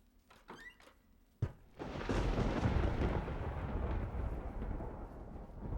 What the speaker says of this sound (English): Enough of you, Thunder.